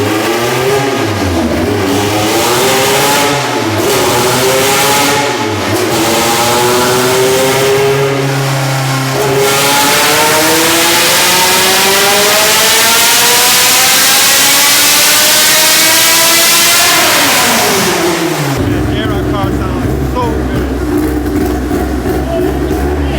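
K-series engine in a Honda Civic EG hatchback, naturally aspirated, revving hard on a dyno, loud repeated blips and then a long sustained climb to high revs before cutting off into a deep idle.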